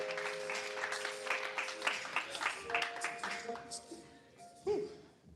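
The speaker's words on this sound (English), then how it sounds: "clap it up for Nadi Ali" An audience at a live poetry event applauds poet Nadi Ali, a modest spread of clapping under a speaking voice, fading toward the end with a brief louder bump.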